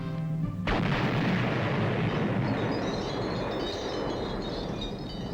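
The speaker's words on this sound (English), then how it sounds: "those Gopher Indians you're trying to make soldiers out of are having grenade practice" Cartoon grenade going off during grenade practice: a sudden loud blast after a brief moment, followed by a long rumbling, crackling roar that slowly fades.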